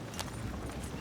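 Horse hooves galloping in Red Dead Redemption 2, a brief rapid clip-clop close by over a dense wash of game background noise.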